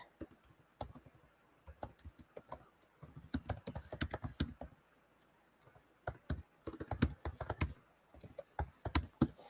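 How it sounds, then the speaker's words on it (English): Rapid bursts of typing on a computer keyboard: clusters of quick, crisp key clicks separated by short pauses, close and fairly quiet with no talking. "let me see, I'm typing"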